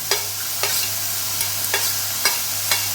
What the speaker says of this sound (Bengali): এটাকে আমি 2 থেকে 3 মিনিটের জন্য একটু হালকা করে ফ্রাই করে নেব